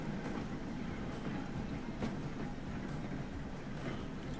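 A freight train in the Transport Fever video game rolls past with a steady, moderately quiet rumble and rhythmic wheel clatter, with no voices heard.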